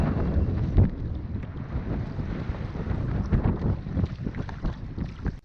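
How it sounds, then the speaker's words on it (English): Steady wind buffets the microphone while a canoe pushes into a headwind on Lac Aux Bières Lake, with a continuous broadband rush and gusty swells throughout and faint water sloshing underneath. "So we're heading out into Lac Aux Bières Lake now, but we got a bit of a headwind to work with."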